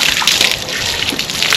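Water poured and splashing over a young filly during her first bath to rinse off sweat, a steady close gush and trickle of liquid running continuously with no talk.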